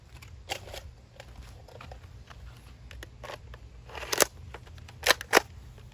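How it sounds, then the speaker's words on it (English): Muzzle brake being fitted onto a Dart Zone Pro MK2.1 foam dart blaster, heard as faint plastic clicks and scrapes over a steady low hum, with a few sharper snaps of plastic parts near the end. "We're going to add the muzzle brake."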